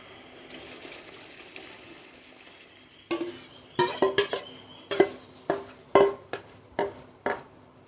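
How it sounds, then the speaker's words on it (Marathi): Cooked dal poured into a sizzling spice tempering of drumstick sour-spicy dal, a steady fry hiss first, then loud close scraping and clanking of a spoon stirring in the pot. "आपण जे शिजवलेलं वरण आहे ते मी घालते."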